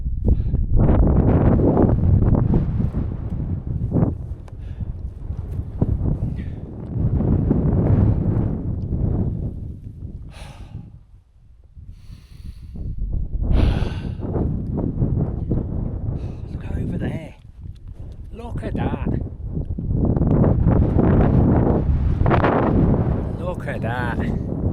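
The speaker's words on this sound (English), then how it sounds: "interesting to see what the wind sounds like" Strong wind buffets the microphone on an exposed mountain summit during a wild camping trip, a loud, continuous roar that swells and dips in long gusts, briefly easing in the middle.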